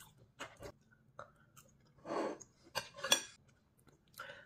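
Someone chewing a banana up close, with soft wet mouth sounds in short irregular bursts between brief quiet gaps and no speech.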